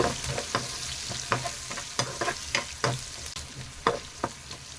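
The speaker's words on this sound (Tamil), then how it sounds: "வெங்காயத்தை நல்லா வதக்கி விட்டுடலாங்க" Chopped onion and green chilli sautéing in a pan, a close, continuous sizzle broken by repeated sharp scrapes of a spatula at an uneven pace.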